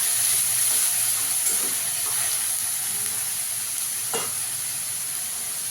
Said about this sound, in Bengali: পেঁয়াজটাকে একটু ভালো করে লাল লাল করে ভেজে নেব।